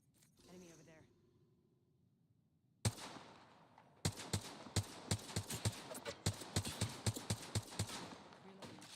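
Rapid gunfire crackles in an Apex Legends match, starting with one loud shot and building into a dense burst of quick repeated shots, after some quieter game sounds at the start.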